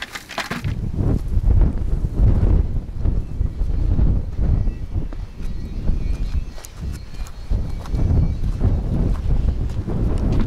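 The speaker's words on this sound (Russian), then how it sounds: "Если бы ветра не было, было бы гораздо теплее." Strong, steady wind roars and buffets the microphone throughout, with low rumbling gusts rising and falling; no voices. Outdoors in a garden in southern Russia in February.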